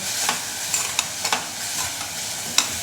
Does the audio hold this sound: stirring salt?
yes